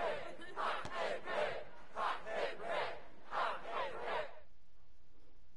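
Video game crowd in WWE 2K20 cheering in a rhythmic chant, swelling in about six repeated bursts, then dropping away near the end.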